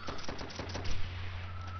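Trench gun fire in Call of Duty: World at War team deathmatch on the Roundhouse map: a quick burst of several sharp shots, then a steady low hum.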